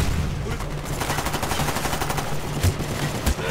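Rapid, dense automatic gunfire with explosive-tipped rounds in the video game Black Ops, a continuous loud stream of shots with a couple of heavier thumps near the end.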